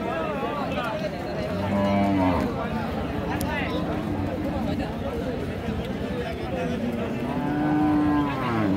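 Cattle moo loudly and repeatedly at a Bangladeshi livestock market where dry cows and heifers are sold, with long lowing calls rising over constant nearby talk and crowd chatter.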